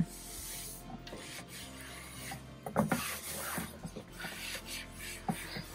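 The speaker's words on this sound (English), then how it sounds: "so I'm gonna wipe that one, that shelf down" A closet shelf is wiped down with a cloth, giving close, continuous rubbing and scrubbing strokes with a few louder swipes and light knocks against the wood.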